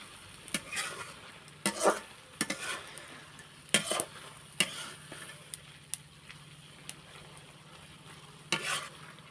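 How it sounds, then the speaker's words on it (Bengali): Potatoes and bottle gourd greens fry in a pan under a faint sizzle, broken by sharp, irregular scrapes and clacks of a utensil stirring, nearby and with no talk. "দেখেন আলু আর শাকটা ভালোভাবে হয়ে যাচ্ছে আমি আরও পাঁচ মিনিটটা ভালোভাবে ভাজা ভাজা করে নেব"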